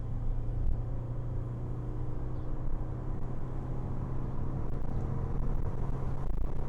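A Toyota Corolla Cross 1.8 Hybrid gearbox drones while accelerating, a steady low tonal hum that holds constant over road rumble inside the cabin, with no talking.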